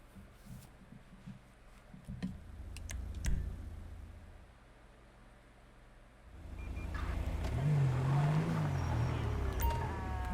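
In GTA V, a car engine starts as a low hum and grows into a louder revving roar with a rising, wavering pitch, preceded by scattered faint clicks.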